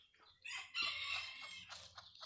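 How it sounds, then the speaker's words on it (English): Young frizzle roosters scrap, giving a sharp, close, harsh crowing squawk with clucking fowl sounds, loud for about a second and then trailing off. "This little baby boy rooster was beating up the other fella."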